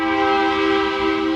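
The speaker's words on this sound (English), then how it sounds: "sorry about the train" A train horn sounds one long, steady, loud blast held the whole time, its rich chord filling the air over a faint rumble of the passing train near a home garage.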